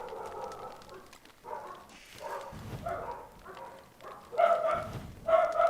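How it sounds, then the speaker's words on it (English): Dogs barking in short, repeated yips and barks at moderate distance, arriving in uneven clusters that grow louder toward the end. "Dogs."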